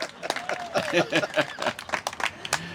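Scattered clapping from an outdoor crowd at a bridge dedication ceremony, moderately loud and uneven, with individual claps standing out and voices murmuring among them.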